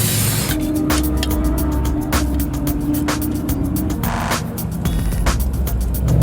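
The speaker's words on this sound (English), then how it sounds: "You can cool your hot carburetor like this." Aerosol spray blasted onto a hot carburetor of the Rotsun race car at a 24 Hours of LeMons event: a steady, loud hiss lasting throughout, threaded with rapid ticking and a faint tonal hum beneath.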